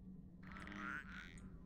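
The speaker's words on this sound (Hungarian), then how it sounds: "Ennek a kis békának nagyon nagy hangja van" A single small frog in Star Wars: KOTOR lets out one loud, drawn-out croak lasting about a second, close and alone over a low background hum.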